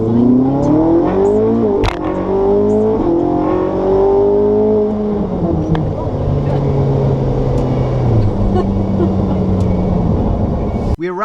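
A Ferrari 458 supercar drives through the Las Vegas area, its engine loud and close, revving and shifting up through the gears with a rising and falling whine that settles into a steady cruising drone.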